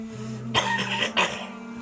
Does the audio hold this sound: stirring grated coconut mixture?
no